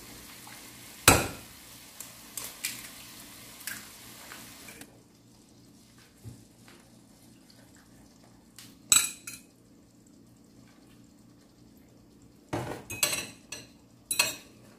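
Bitter melon and egg cooking in a pan, with scattered sharp clinks and scrapes of a utensil against the pan over a faint low sizzle, several separate taps clustered near the end.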